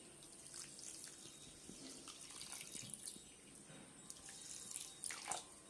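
Steady stream of water running and splashing into a pan of sugar for syrup, continuous and fairly soft, with no voices.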